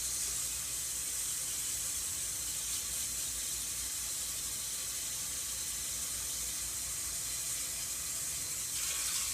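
Tap water running steadily into a bowl of sliced potatoes as it is refilled to rinse off starch, a continuous close hiss and splash that stays even throughout.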